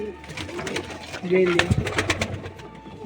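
Pigeons coo close by in a loft, with soft repeated throaty calls running through the whole stretch and someone talking over them.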